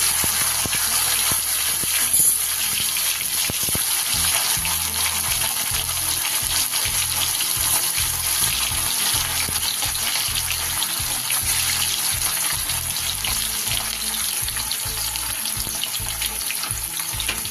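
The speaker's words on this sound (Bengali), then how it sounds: "আস্তে আস্তে করে হালকা আঁচে আমি এগুলোকে হালকা করে ভেজে নেব" A steady, bright hiss of paneer frying in hot oil on a low flame runs throughout, with a low, uneven thumping underneath.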